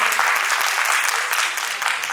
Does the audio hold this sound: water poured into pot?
no